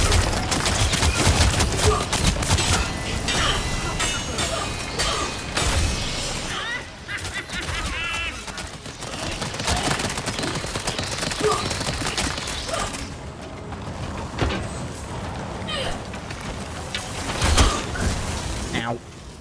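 Rapid gunfire bursts and mechanical weapon clatter from the video game Warframe run dense and loud throughout, with a player's voice talking over the action.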